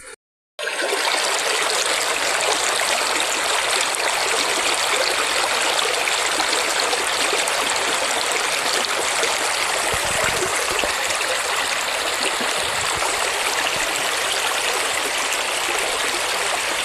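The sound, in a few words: Aghanashini river stream flowing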